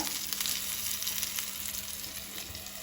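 Squid stuffed with prawns fries in a covered pan over a low flame, giving a bright, constant sizzle scattered with small pops of spattering oil. It sounds close and even, with no voices over it.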